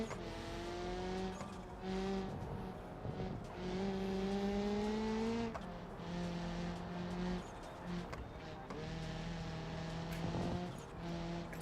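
A car races in the video game Destruction Derby, its engine whining through rising gear-by-gear revs and shifts, with tire squeals and a few knocks, loud and continuous with no talk.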